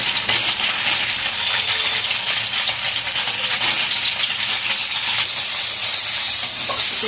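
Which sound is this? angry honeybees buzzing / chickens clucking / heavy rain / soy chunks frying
soy chunks frying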